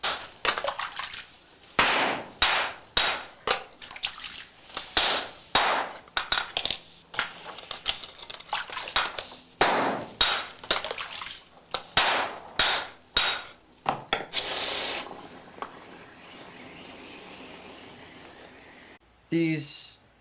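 Rapid metallic hammer blows on hot steel at a swordsmith's forge, a dense irregular run of sharp ringing strikes, close and loud, giving way to a softer hissing stretch near the end.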